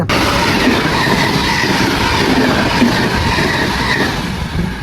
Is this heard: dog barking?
no